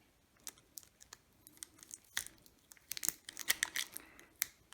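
Masking tape is sliced off a roll while wrapping a Halloween voodoo doll decoration for painting, heard as a close, quiet run of sharp crinkles and tearing snaps that grow busier toward the end, with no voices.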